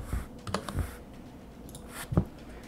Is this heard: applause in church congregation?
no